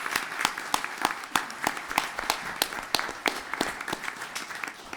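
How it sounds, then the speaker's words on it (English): A city council meeting audience applauds the parents of student athletes. The clapping is steady and moderately loud, with distinct individual claps in a loose rhythm and no talking over it. "Y'all get them parents a round of applause."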